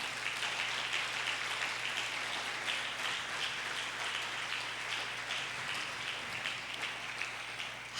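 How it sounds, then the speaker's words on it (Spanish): A church congregation at a family worship service applauds in a dense, continuous wash of clapping that sounds distant and fairly faint, with no voices standing out. "Dale fuerte ese aplauso al Señor."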